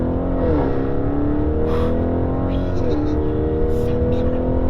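An Audi RS7 tuned to 750 horsepower and 1250 Nm revs under acceleration from inside the car, a loud steady engine roar with rising pitch sweeps as it pulls through the gears.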